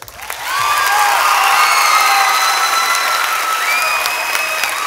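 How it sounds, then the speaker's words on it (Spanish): A concert crowd at an alternative reggaeton show claps and cheers for the artists, swelling after a brief start into loud, sustained applause with whoops and lingering musical tones underneath. "así un aplauso para ellos."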